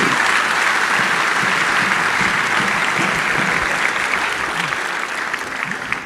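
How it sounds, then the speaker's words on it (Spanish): A church congregation applauding for the Lord, dense steady clapping from a large crowd that fills the whole stretch and eases slightly at the end. "Denle un aplauso al Señor."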